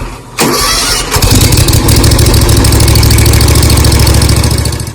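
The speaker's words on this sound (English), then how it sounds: "get on your mower and start her up and let it run for about" A Big Dog Stout zero-turn mower engine cranks briefly and catches, then settles into a loud, steady close-up running rumble with no talk over it.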